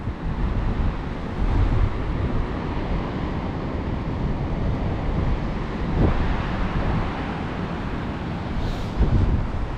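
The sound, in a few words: ocean waves breaking at Rocky Beach, Port Macquarie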